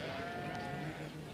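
A sheep bleats in a wavering, drawn-out cry against a soft background of farm noise, sounding moderately close.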